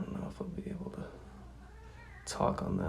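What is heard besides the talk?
cat meowing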